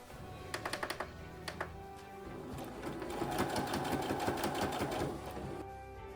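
A sewing machine stitching fabric for a costume, starting with a few short bursts of rapid needle clatter, then settling into a steady, continuous run of stitching that fades out near the end.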